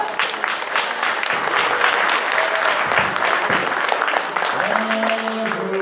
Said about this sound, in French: On peut l'applaudir déjà très fort